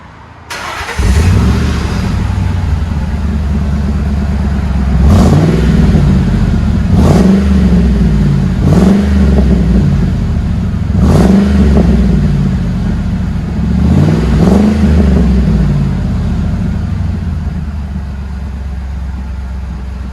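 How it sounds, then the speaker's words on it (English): A Ford Lightning pickup fitted with a MagnaFlow exhaust and long tube headers idles loudly up close, then revs in about six sharp blips spaced every two seconds or so before settling back to a rumbling idle. "Nice thing about MagnaFlow, it's not too loud. Just a really nice tone."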